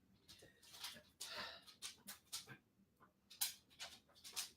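Luke, a dog, whimpers softly up close in a series of short, high, breathy cries that come in irregular bursts, with no one speaking.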